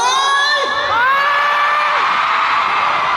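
A loud crowd cheers and shouts together, high excited voices and whoops blending into a sustained roar throughout.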